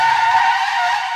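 A braking skid sound effect gives a loud, steady tire screech with a bright, shrill tone, sustained across the whole moment with no talking.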